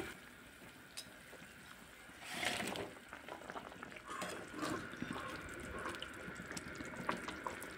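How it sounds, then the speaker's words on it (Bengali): Potato and pangasius fish curry broth boils on high heat in a pot, giving a faint, steady bubbling with soft liquid pops and gurgles. "ঝোলটা দিয়ে হাই আঁচে রান্না করব কিছুক্ষণ। ঝোলে জাল উঠে গেছে।"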